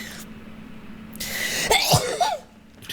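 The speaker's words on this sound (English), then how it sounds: "I'm about to sneeze." A single close, sharp sneeze bursts out after a short breathy intake, then quickly fades, with no talking over it.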